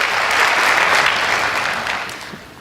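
Applause for the armed forces fills the room, a broad wash of steady clapping from a large audience that slowly fades toward the end.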